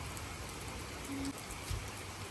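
Rain falls outdoors as a soft, steady hiss, faint and very brief, with no voices.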